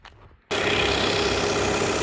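After a brief quiet moment, a Volkswagen Passat's two-litre 150 hp TDI diesel engine idles loudly and continues as a constant rumbling drone.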